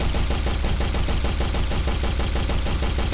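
Rapid automatic gunfire in an Unreal Engine 4 demo, shooting an object with a steady, fast rhythm of evenly spaced loud shots throughout, with no talking.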